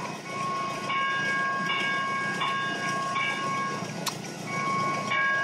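A train rumbling past a Chevy Volt at a steady loud level, with sustained wheel squeal tones and a sharp metallic clank partway through.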